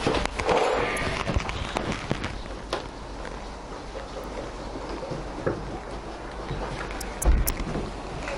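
Steady outdoor wind gusting around a motorcycle repair spot, where it keeps a soldering iron from heating up; a continuous broadband rush with a few louder buffets and clicks, no voices.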